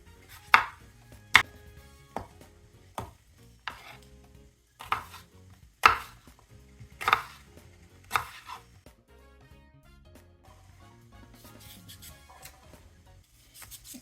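A knife chops through cucumber on a board, sharp separate cuts spaced irregularly at close range, fading to softer taps toward the end.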